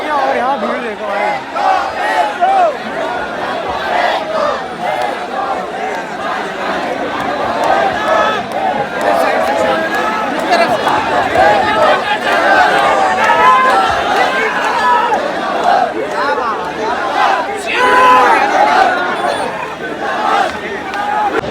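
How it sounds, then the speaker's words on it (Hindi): Large protest crowd at Jantar Mantar in Delhi, a continuous roaring hubbub of many voices and shouting, with a nearby person talking over the steady din. "ये स्टेज आ गया और यहाँ भीड़ देखो भाई।"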